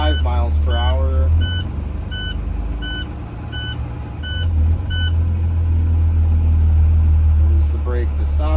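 A school bus engine rumbles steadily at low speed during a pre-trip brake check, with a run of regular electronic beeps partway through and someone talking over it.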